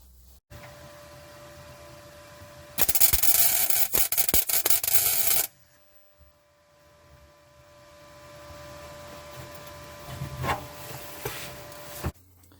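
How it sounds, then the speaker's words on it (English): A burst of harsh, crackling welding noise lasting a few seconds as a boot floor repair patch on an Austin Mini is welded from below, followed by quieter workshop hum and a rising hiss. "then I'll weld it from below just for extra neatness"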